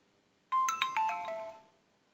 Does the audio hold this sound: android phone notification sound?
yes